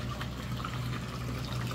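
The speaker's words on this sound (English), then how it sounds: "So the water comes down from these 2 pipes" In a reef aquarium sump, water flows down from two pipes into a filter sock, making a steady close splashing rush with a low hum beneath.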